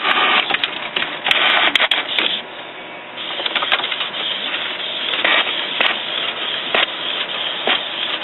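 A Canon inkjet printer fitted with a continuous ink supply system prints a nozzle check pattern, giving a steady whirring and clicking of the print head close by, with no talk.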